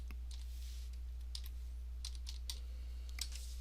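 A file name is typed on a computer keyboard while working in DipTrace circuit-board design software. The keystrokes are quiet, quick and sparse, with short bursts of clicks over a constant low electrical hum.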